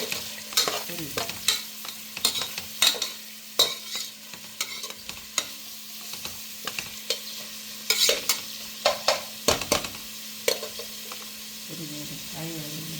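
Onions frying in a pan for pulao, a soft steady sizzle under repeated close scraping strokes of a spoon stirring, with brief quiet talk near the end.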